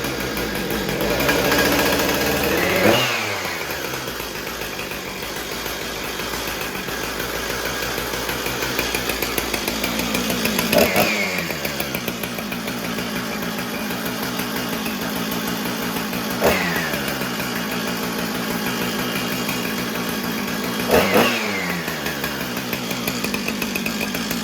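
A Husqvarna 455 Rancher chainsaw running, its two-stroke engine steady and close, with several revving bursts spaced through the clip that drop back to a lower idle each time.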